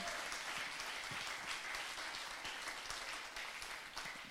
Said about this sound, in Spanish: Así que desea un aplauso a usted mismo en esta tarde